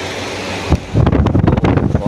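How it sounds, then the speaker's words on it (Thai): A ventilation exhaust fan runs in a hot secondhand Japanese audio-equipment warehouse, a loud steady rushing drone close by that grows rougher and more buffeting partway through. "ขออภัยนะครับเสียงพัดลมดูดนะครับพัดลมระบายอากาศนะครับร้อน"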